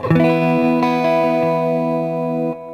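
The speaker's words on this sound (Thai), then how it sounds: "แล้วลองบวกกับรีเวิร์บนะ" A sustained electric guitar chord rings out through an EBS Dynaverb reverb and a Boss DD-8 digital delay, with a few repeated picked attacks blooming into a long, lush wash before it cuts off near the end.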